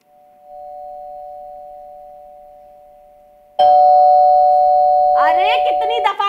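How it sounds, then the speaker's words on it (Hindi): A doorbell rings in a staged Urdu comedy play, a long steady electronic tone that fades slowly, then a second louder ring, with voices starting to talk over its end. "अरे कितनी दफा कहा है इस मनहूस घंटी को मेरे घर से निकलवा दो।"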